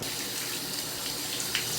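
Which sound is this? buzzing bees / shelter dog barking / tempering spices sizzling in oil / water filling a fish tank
water filling a fish tank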